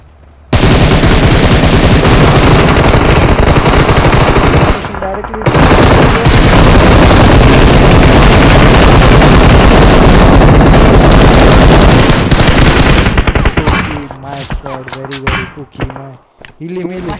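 Rapid automatic gunfire in PUBG Mobile on the Erangel map, loud sustained bursts that fill most of the stretch, with a short gap partway through and scattered single shots near the end.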